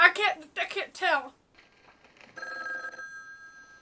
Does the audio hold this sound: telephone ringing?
yes